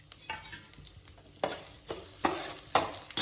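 Whole spices fry in a little oil in a hot kadai, giving a soft, continuous sizzle broken by several sharp bursts as the spoon stirs and scrapes, quiet and close with no talk.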